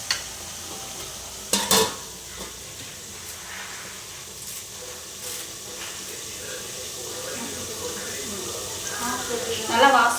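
Onions fry in oil in a pan for pavakkai ulli kuzhambu, a soft continuous sizzle with a couple of sharp utensil clanks and stirring scrapes, while a voice talks over it.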